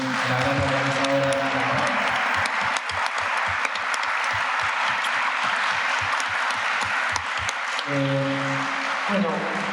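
At a commemorative human rights gathering, an audience claps in sustained, even applause after a speaker, with voices heard at the start and again as it fades.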